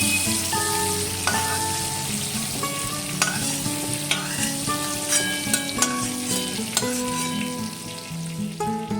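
Prawns fry in hot oil, a loud continuous sizzle with crackling pops and occasional stirring scrapes, no talk over it.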